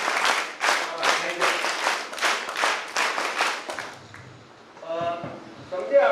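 Audience applause at an Independence Day student event, clapping bursts in rhythmic waves for several seconds, then fading out as voices are heard.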